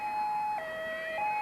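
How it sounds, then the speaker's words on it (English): A fire engine siren in a Santa Claus parade sounds steadily and moderately close, its two-tone pitch dropping and then rising back in a regular cycle, with no talk over it. "Lights flashing, siren wailing."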